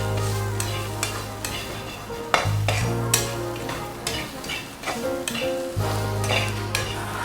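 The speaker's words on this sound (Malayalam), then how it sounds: "ഇനി ഇത് നന്നായിട്ട് ഇളക്കി" Masala powder stirred into a cooking pan, rhythmic scraping strokes of a spoon against metal over a constant sizzle, close and loud, with brief clinks between strokes and no talk.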